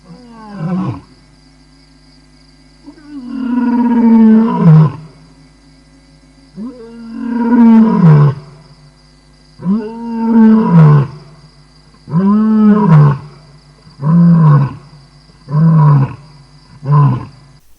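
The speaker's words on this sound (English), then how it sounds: "And here is the sound that lions actually make" A lion calls in a series of deep, grunting roars, about eight bursts separated by short pauses, loud and close, the later ones shorter and quicker.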